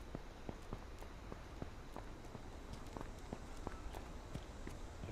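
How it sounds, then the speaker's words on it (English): Quick, light footsteps in the battle royale game H1Z1 patter steadily at a running pace, close and quiet, over a faint background hush with no talking. "Your footsteps are fucked up."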